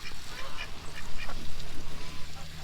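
Ducks, including a larger drake, quack and honk repeatedly at close range in a short, busy burst of calls over steady background noise, with no talking.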